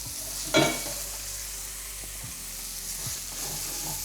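Chicken keema (chicken mince) sizzles and fries steadily in a pan for noodles, with a sharp spoon scrape near the start and a few soft stirring knocks later; close, continuous, no talking.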